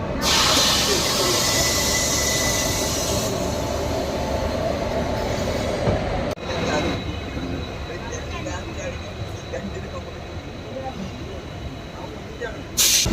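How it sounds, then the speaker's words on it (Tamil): Amrita Express train departing Madurai Junction: a loud, steady rumble of rolling wagons and wheels with hiss and faint squeal, continuing throughout, while a person talks over it. "நம்மளோட அமிர்தா எக்ஸ்பிரஸ் பார்த்தீங்கன்னா கிட்டத்தட்ட ஒரு 15 minutes டிலேவாக தான் பார்த்தீங்கன்னா இங்கே மதுரை ஜங்ஷனில் கிளம்பிருக்கு"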